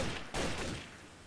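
Burst of gunfire in the first-person shooter game Trouble in Terrorist Town, a sharp onset of dense, rapid shots that tails off over about a second.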